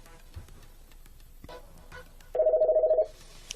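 An office phone rings electronically for an incoming call, giving a short run of rapid, evenly pulsed tones that stop abruptly, heard up close after a quieter stretch.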